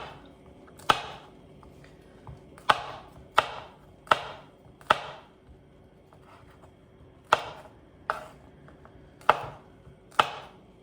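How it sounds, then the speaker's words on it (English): Vegetables, likely green beans, chopped with a knife on a cutting board: about a dozen crisp, close thunks spaced irregularly, each with a brief decay, alone without speech. "that about does it for the slicing and dicing"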